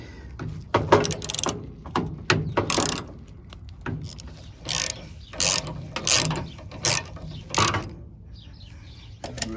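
A ratchet works bolts loose on the tension rod of a Nissan D21 pickup, sounding as a series of quick, close clicking bursts separated by short pauses over roughly ten seconds.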